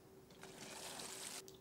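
Water trickles and pours onto crops in the Project Zomboid video game, a short steady splashing stream lasting just over a second, moderately quiet with no talk over it.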